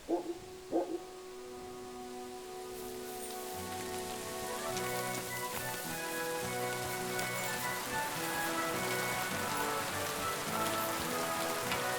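Heavy rain in Kingdom Come Deliverance 2 pours steadily on the ground and surfaces, a dense continuous hiss that builds after a couple of brief thuds at the start, with tonal music underneath.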